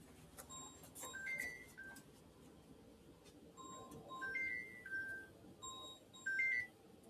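A phone's melodic ringtone repeats its short tune of bright beeping notes several times, faint and somewhat distant, over a quiet room with no talking.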